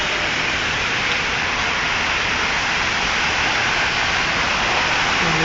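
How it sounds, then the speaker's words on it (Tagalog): Heavy rain pours down during flooding in Jeddah, a loud, dense, unbroken wash of noise that holds steady across several seconds. "Oh, lalo lumalakas yung ulan."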